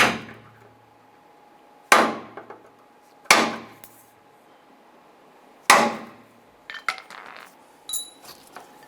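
A punch struck with a hammer to knock out plastic rivet pins on the rear bumper of a 2002-2008 Dodge Ram 1500, four sharp close metallic taps spaced apart, followed by lighter clicks and rattles.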